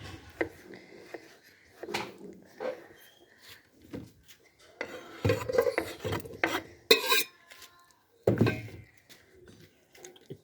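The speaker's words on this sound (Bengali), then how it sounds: "তাহলে প্রথমে মাখা কাকু টমেটোটিকে কেটে নিচ্ছে।" Ripe tomatoes being cut with a knife make quiet, intermittent rasping scrapes and soft taps in uneven bursts, with short pauses between strokes.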